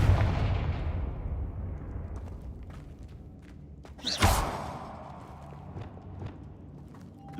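A Confringo fire spell explodes in the video game Hogwarts Legacy. The burst lands mid-clip with a sharp thump, and a low rumbling tail plus background game sound surround it.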